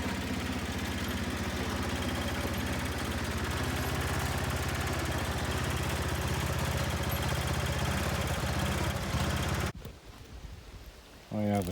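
The small engine of a Bolens H16XL garden tractor runs steadily and loudly close by, a constant chugging drone that cuts off abruptly near the end, with a brief burst after.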